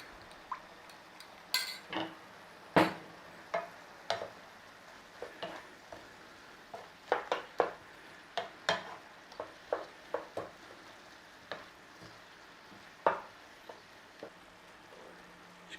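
Onions and beef cook in a pan with oil, a faint low sizzle under repeated sharp clinks and scrapes of a utensil stirring and turning the food, irregular and fairly close.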